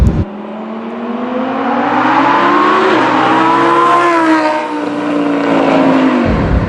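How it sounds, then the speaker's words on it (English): A Lamborghini Huracan's engine accelerates hard in a long continuous pull, its loud rising roar climbing steadily in pitch with a brief shift dip near the middle, heard from inside the car without talk. "It's unbelievable how much the rate of acceleration doesn't change as you accelerate more."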